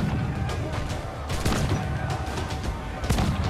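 Cannon fire in a pirate-themed video game booms in a rapid series of sharp blasts, several shots in quick succession with crashing impacts, loud and close.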